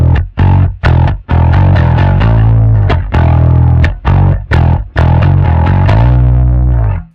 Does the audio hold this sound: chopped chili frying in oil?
no